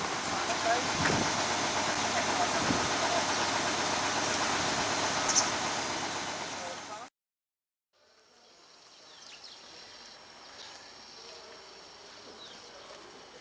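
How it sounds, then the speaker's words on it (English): Steady broadband road and engine rumble of a moving bus, continuous and fairly loud, briefly cut out, then returning quieter and muffled. "Going home on the bus."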